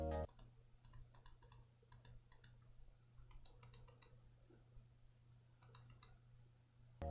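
Side buttons of a Glorious Model O gaming mouse clicking in quick crisp pairs and short bursts, close up and quiet with no talking.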